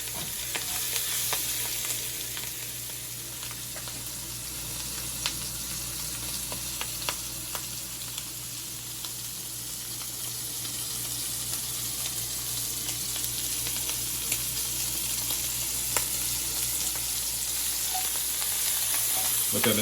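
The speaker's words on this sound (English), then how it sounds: "finally, we're going to add our diced up lobster tail" Diced lobster tail frying in a pan for lobster mac and cheese, a steady broadband sizzle throughout with occasional stirring clicks and scrapes, close and fairly loud, no talking.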